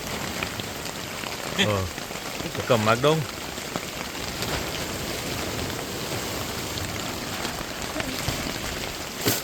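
Heavy rain pours steadily at a night fishing camp in Trinidad, a dense continuous hiss of drops on surfaces, while a couple of people briefly talk over it.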